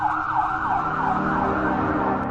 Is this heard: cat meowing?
no